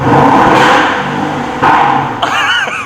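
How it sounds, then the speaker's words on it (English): An Aston Martin DB11 V8 revving in sport plus mode, two loud deep exhaust blips in close succession, then a quick settling as a whirring tone sweeps up and down. "sport plus will give you a little bit of a deeper exhaust note"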